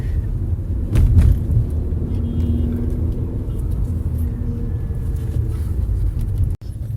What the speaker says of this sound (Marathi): भरपूर गाड्या भरपूर गाड्या